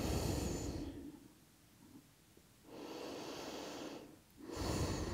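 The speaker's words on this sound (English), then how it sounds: "Nice deep breaths." Slow, deep breaths are drawn during bedtime yoga in a resting pose with the forehead on the mat. Two long, close airy exhale-inhale cycles are separated by a quiet pause.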